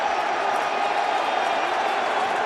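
Steady, dense roar of a baseball stadium crowd during a 2014 NLDS playoff game between the Giants and Nationals, a constant wash of many distant voices with no distinct claps or peaks.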